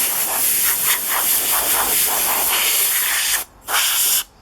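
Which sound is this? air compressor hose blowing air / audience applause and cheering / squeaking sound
air compressor hose blowing air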